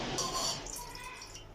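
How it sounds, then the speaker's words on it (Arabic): Water being poured into a bowl onto tomato paste, a short, near, gentle splash and trickle that quickly tapers off. "هنحط بقى شوية مية على الصلصة،"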